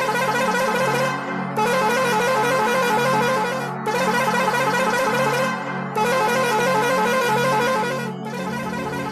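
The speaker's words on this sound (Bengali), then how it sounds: "পিছনে একটা মালবাহী লরি সমানে হর্ন বাজিয়ে চলেছে অনেকক্ষণ ধরে" A goods truck blasts its horn again and again from behind, four long, loud sustained honks separated by short gaps.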